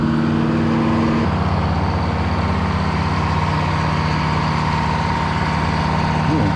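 Boatyard travel lift with a heavy diesel engine idling in a low, steady rumble, with a short shift in pitch early on, close and continuous.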